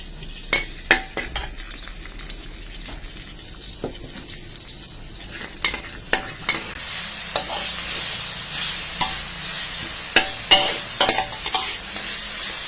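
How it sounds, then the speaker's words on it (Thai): Chilies roasting in a pan give a steady sizzle, stirred along with sharp scrapes and clinks of a utensil against the metal. The frying grows louder and brighter about halfway through, close up, and no one speaks. "เตรียมพริกลงไปคั่วให้หอมค่ะ"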